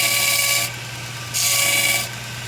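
A belt grinder runs against an unground section of a knife blade, with a steady motor hum and two bright, close bursts of abrasive grinding as the steel is pressed against the belt, and no voices.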